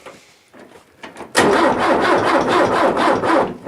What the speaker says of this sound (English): It cranks the engine a little faster.